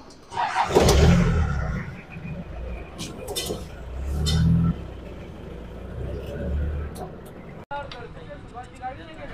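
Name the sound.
old Jeep being driven and parked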